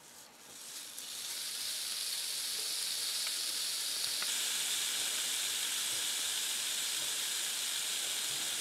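Steady, bright sizzling swells up and holds, like bacon cheeseburger patties frying on a preheated George Foreman electric grill, with no voices.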